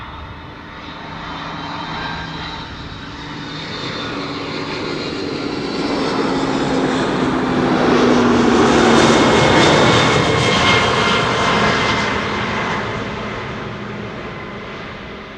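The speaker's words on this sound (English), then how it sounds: "A300-600 arriving from London Luton" Airbus A300-600 landing at Amsterdam Schiphol after arriving from London Luton, a broad jet roar that swells to a peak midway and then slowly fades, heard from a distance with no talk.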